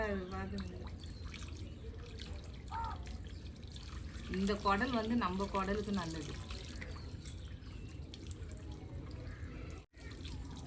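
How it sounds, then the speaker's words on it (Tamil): Tap water runs and trickles into a sink as goat intestines are washed, a soft steady splash under continuous Tamil speech. "அதில் தண்ணி ஊற்றுது இதில் தண்ணி வருதுல்ல"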